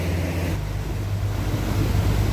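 Sea off Turkey rushes past a small boat during a calm ride, a steady close wash of water and wind noise layered over a low motor hum, with no talking.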